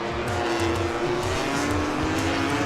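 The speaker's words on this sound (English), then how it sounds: "Scott Redding on his GP15 pulling off an audacious move on Marc Marquez" MotoGP racing motorcycles, including a GP15, battling through Ramshoek toward the final chicane at the Dutch GP: loud, high-revving engines screaming steadily past at close range, with no voices.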